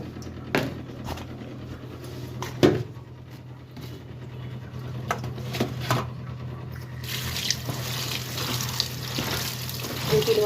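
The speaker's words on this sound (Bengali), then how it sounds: "ভালোভাবে ধুয়ে নিই যদি বালু ফালু থাকে তাহলে পরিষ্কার হয়ে যাবে" Water splashes and drips in irregular bursts as Malabar spinach (poi saag) leaves are washed to remove sand, close by over a low background hum, growing into steadier sloshing toward the end.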